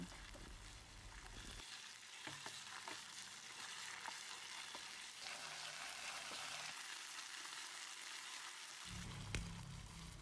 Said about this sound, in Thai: เสร็จแล้วผัดให้เข้ากันค่ะด้วยไฟแรง